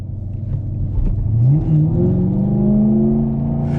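A 2018 Chevy Camaro SS 1LE with a manual gearbox accelerates hard, its engine rising from a low rumble into a loud climbing roar that holds close and strong, with no speech.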